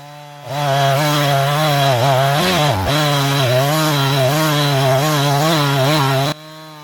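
A chainsaw makes the back cut through a coconut palm trunk while hinge-felling, running loud and close for about six seconds with a steady, slightly wavering engine pitch and a brief dip midway.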